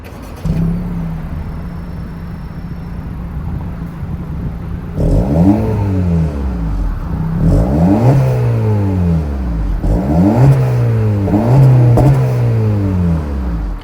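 A 1.5-liter turbocharged four-cylinder engine in a 2025 Acura Integra A-Spec idles, then revs repeatedly in sharp rising and falling bursts, close and loud, with no voices.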